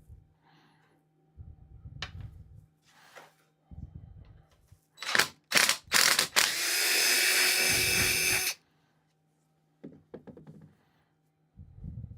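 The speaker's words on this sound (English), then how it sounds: "I'll drill them out with the biggest one I have for that kit for now" A power drill whirs in a few short bursts, then runs steadily for a couple of seconds before stopping, with clicks and handling noises around it.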